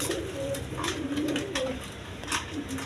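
A pair of colored Gola pigeons, sitting on two eggs, coo softly and repeatedly up close, with low throaty calls recurring throughout.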